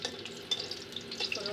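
Dried red chillies fry in hot oil with a close, steady crackling sizzle and small pops, fairly quiet and without voices.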